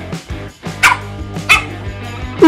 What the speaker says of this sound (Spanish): Te he dicho que no ladres.